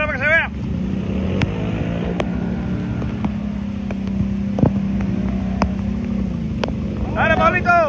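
Motorboat engine on a river, a steady close drone held through the clip, with short shouted voices at the start and end.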